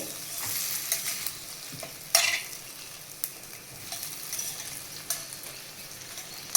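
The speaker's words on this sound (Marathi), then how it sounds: "आता ही वांगी चांगली अलगद हलवून घेऊया." Stuffed brinjals coated in masala fry in oil as a spoon gently stirs them, giving a continuous close sizzle broken by several scraping knocks against the pan, no voices.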